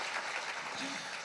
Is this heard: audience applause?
yes